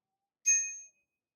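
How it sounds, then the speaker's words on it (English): A single bright bicycle bell ring on an Aventon Abound SR e-bike, one clear metallic ding that fades out within half a second, heard alone and close. "It also comes with a bell."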